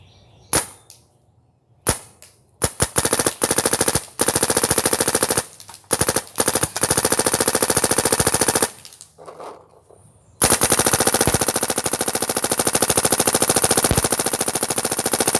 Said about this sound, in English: And then I'm going to fire at a tree over there.